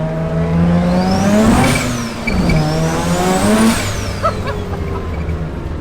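A rotary-powered Datsun car engine revs up sharply twice, each surge rising and dropping back to a rough idle, loud and close.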